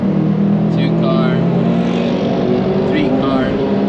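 Cars overtaking on the Nürburgring track, heard from inside a car as a loud, steady engine drone and road roar, with brief rising whines as other cars pass close by.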